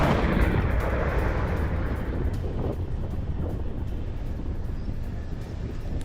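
An IDF airstrike on Beirut, heard as a loud, deep rumbling blast that decays into a long, low roar with scattered faint crackles.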